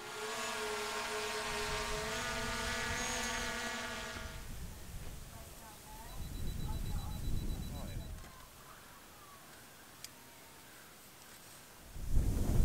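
A drone hovers overhead at an outdoor summer landscape-photography meetup, its loud, steady whirring motor whine filling the first four seconds before cutting away to quieter outdoor rustling and muffled movement.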